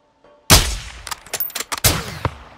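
Rifle shots from Call of Duty Modern Warfare II: one loud, sharp crack, then a quick scatter of lighter shots and metallic impacts and a second strong report, all close and without speech.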